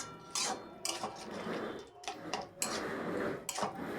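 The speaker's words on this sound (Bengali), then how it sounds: "কিছুক্ষণ আমরা এভাবেই নেড়ে ছেড়ে নেব।" A spoon scrapes and clinks against a pan while coconut and chana dal are stirred, in several short separated bursts of scraping with quieter pauses between, close and fairly soft.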